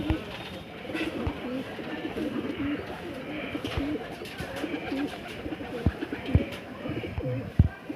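Pigeons coo softly and repeatedly close by, a low rolling murmur with occasional wing flutters and light background noise.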